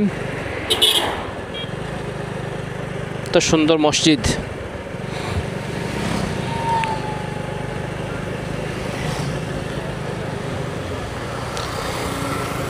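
A motorcycle rides along a village street in Beanibazar, Sylhet, on a rainy day, its engine a steady close drone throughout, with brief louder bursts and someone talking over it.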